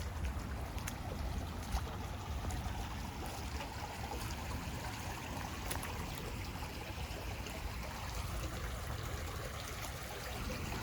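A river rushes through a campsite in Palo Duro Canyon, a dense, steady roar of flowing water with faint splashes and no break for the whole stretch.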